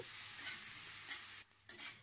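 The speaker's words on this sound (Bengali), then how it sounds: "এরপর মিডিয়াম ফ্লেমে পেঁয়াজটা হালকা সোনালি করে ভেজে নিতে হবে।" Chopped onions sizzle over a medium flame with stirring scrapes, a steady close hiss that drops out briefly near the end and then returns.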